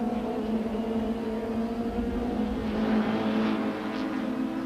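Super Touring race cars, Rothmans Audis chasing a Minolta Toyota Camry at Kyalami in 1995, scream through a kink with a continuous buzzing engine whine, heard at a distance and rising slightly as they pass.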